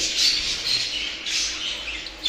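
A 13-year-old budgerigar among female budgies in an aviary, giving harsh, scratchy squawks in a near continuous chattering burst, close and fairly loud, with no speech.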